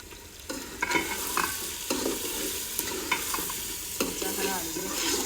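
Masala being stirred in a frying pan for desi chicken, a steady sizzle with repeated scraping spoon strokes at an uneven rhythm, close and loud with no talking.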